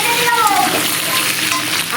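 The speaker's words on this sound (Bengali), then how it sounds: "তুলে নেবো আলুগুলো, আর একটু ভাজবো।" Potatoes fry in a pan with a steady, close hiss and bubbling sizzle, loud and continuous throughout.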